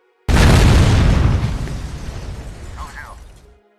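A film explosion in a residential building: one sudden loud boom that bursts in at full volume, then rolls and rumbles down into a long fading roar with debris noise over about three seconds.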